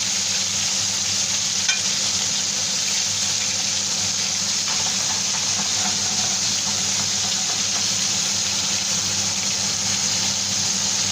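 Butterflied anchovies fry in a pan with a loud, continuous, close sizzle and crackle that holds steady throughout, with no voices.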